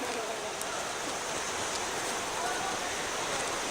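Waterfall number two on a waterfall trail in Corupá, Santa Catarina, gives off a constant, even roar of rushing water that fills the whole stretch without pause.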